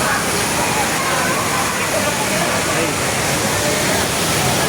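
Ditumabo Mother Falls in San Luis, Aurora Province, roars as a steady, dense wash of falling water, constant and close throughout, with a brief spoken word over it.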